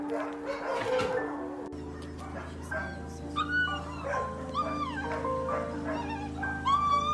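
A young dog, about one and a half to two years old, gives short yips, whimpers and barks at close range over a steady low hum, with occasional voices nearby.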